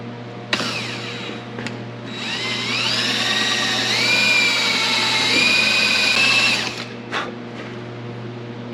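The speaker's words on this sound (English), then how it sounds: "drill all these points on the shaft where there's a grub screw real quick" A power drill revs up and grinds steadily into a steel steering shaft on a 1930 car, pitch shifting under load, with clicks before and after the run over a constant background hum.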